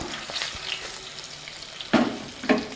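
Green and dried chillies sizzle in oil in a cooking pan while being stirred for a paneer and cashew gravy, a steady frying hiss punctuated by two sharper scraping clinks of the spoon.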